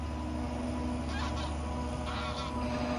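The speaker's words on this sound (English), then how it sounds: "The geese coming over." Geese honk in a few brief bursts as they fly over farmland, faint above a steady loud engine drone from a John Deere tractor.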